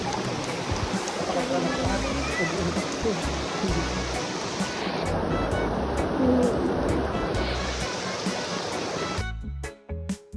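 The Mapili River rushes past in a loud, continuous broadband wash of flowing water close by, steady throughout and cutting off near the end.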